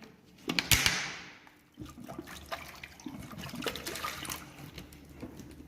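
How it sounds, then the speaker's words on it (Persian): Water is poured and splashed over pieces of watermelon rind, with a brief gushing burst early on, then softer trickles, drips and small clatters at close range. "من آب میزنم بهشون."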